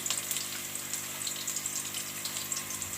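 Onions sizzle in hot ghee in a home kitchen pan while kofta is being made, a steady close hissing fry with no talking.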